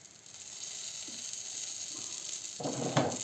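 Cherry pancakes fry in a little oil in a pan, giving a soft steady sizzle with faint clinks, then a louder burst of spattering near the end.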